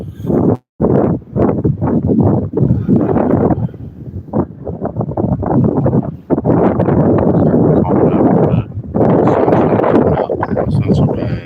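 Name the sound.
wind blowing into the microphone outdoors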